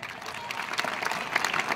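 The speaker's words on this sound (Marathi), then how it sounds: "जोरदार टाळ्या वाजवा" A crowd at a public lecture applauds with sustained, steady clapping throughout the short stretch, dense and fairly close, with no pause.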